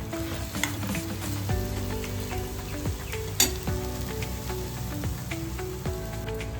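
Green chili thecha roasting in a pan, a loud, constant sizzle with bubbling crackles and occasional stirring scrapes and taps, close up and without any talking.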